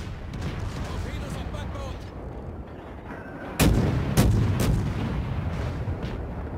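Naval guns fire from warships in World of Warships, three heavy booms landing close together midway, each rising sharply out of a steady rumbling sea-and-engine bed.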